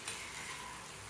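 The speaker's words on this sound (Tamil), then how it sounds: "மெதுவாக சிம்மில் வச்சுட்டு அழகாக பொறுமையாக முட்டையை வறுக்கலாம்" Eggs fry slowly on a low flame in a pan, giving a faint, steady sizzle with a small tick near the start, no voices.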